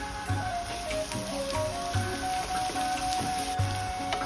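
Chopped onions fry in oil for a street-style keema ghugni, giving a steady close sizzle with soft rhythmic stirring scrapes recurring every second or so.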